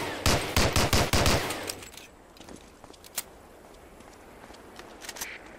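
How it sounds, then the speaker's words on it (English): A .45 pistol fires at a target in the Medal of Honor: Allied Assault training level: a loud, rapid string of close shots, then a few faint scattered clicks and pops. "Try a couple of shots on that target with your 45."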